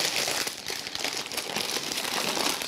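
Baking paper crinkles steadily up close as it is used to roll up a luxury meatloaf, a continuous dense rustling with no talk.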